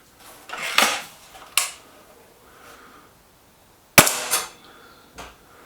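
Air rifle shots from an SMK Mod19 and a Webley VMX Quantum in a shooting contest, a few sharp separate cracks spaced seconds apart, each followed by a brief metallic ring or clatter, with quiet in between.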